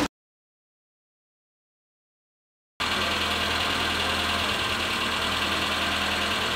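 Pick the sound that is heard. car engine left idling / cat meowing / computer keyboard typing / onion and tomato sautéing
car engine left idling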